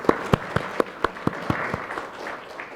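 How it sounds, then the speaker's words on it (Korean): An audience at a symposium on carbon neutrality and the constitution breaks into applause, a burst of sharp individual claps up front that settles into a softer, fading patter of clapping within about three seconds. "큰 박수 부탁드리겠습니다."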